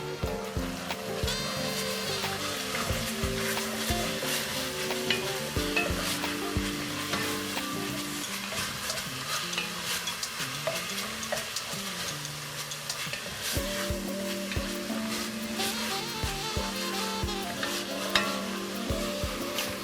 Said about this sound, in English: I got a little bit of chili powder. All right, we can give that a good stir.